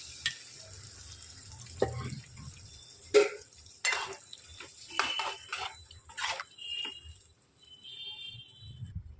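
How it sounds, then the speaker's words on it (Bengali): Boiled chickpeas being stirred into vegetarian ghugni in a pan, with intermittent scraping and clanking of a spoon against metal over a soft background sizzle, irregular and fairly close. "এবারে কাবলি ছোলাটা দিয়ে দেবো, সেদ্ধ কাবলি ছোলা।"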